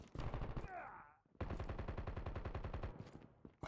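Rapid automatic gunfire from Call of Duty Mobile plays as a fast, even burst of shots. A second sustained burst follows a brief pause, with close, loud game audio throughout.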